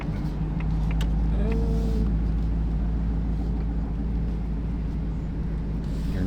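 A twin-turbo Ford Mustang with a manual gearbox drives steadily as the clutch takes up and the throttle is feathered, giving a constant low engine rumble from inside the cabin, with no clear talk.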